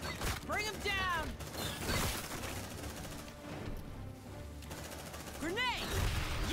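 Rapid gunfire from the video game Aliens: Dark Descent rattles in busy bursts amid mechanical clatter and shrill alien screeches, with combat sounds layered throughout and voices calling out over the fighting.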